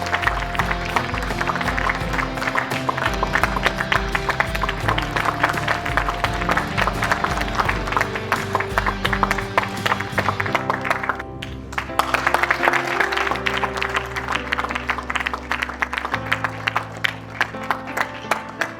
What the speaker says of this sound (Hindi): please put your hands together for Renua sir